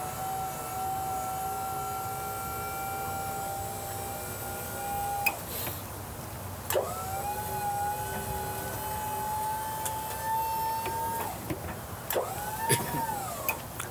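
A 100-foot Sutphen aerial ladder raising: a steady mechanical whine runs continuously, shifting pitch as the motor stops and restarts, with a few brief clunks and a rising tone near the end.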